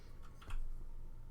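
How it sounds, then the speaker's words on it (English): A few quiet keystrokes clack on a mechanical keyboard, with one clearer tap standing out in a short, hushed moment. "The mechanical keyboard makes it sound so much angrier."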